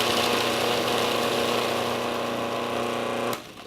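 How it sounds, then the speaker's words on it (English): Food processor mincing onions finely, a steady loud motor whir and buzz running continuously before cutting off near the end. "Let's get started by putting the onions into the food processor."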